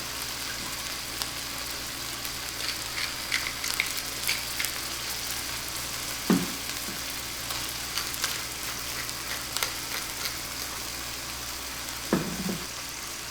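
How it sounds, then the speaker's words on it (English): Food sizzling in a pan, a steady bright hiss throughout with scattered crackles and two low thuds, close and continuous with no talking. "Listen to that sizzle."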